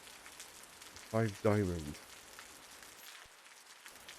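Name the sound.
rain falling in video game Osiris: New Dawn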